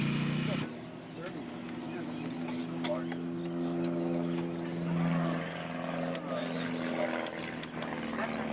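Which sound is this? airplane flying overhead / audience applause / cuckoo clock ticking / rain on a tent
airplane flying overhead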